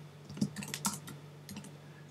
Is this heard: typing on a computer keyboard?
yes